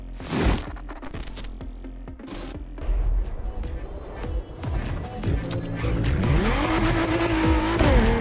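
A car drifts through a Gymkhana event in the racing video game The Crew, with loud engine revving, rising and falling pitch, and sustained tire squeal and skidding throughout.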